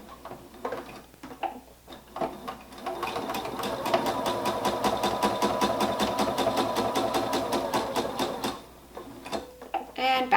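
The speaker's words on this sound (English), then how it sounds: "we are going to be sewing the dark part" A sewing machine stitches through fabric for a baby hat, starting with short stop-and-go bursts, then a sustained run of rapid, evenly spaced needle clicks, close up, before pausing and starting again.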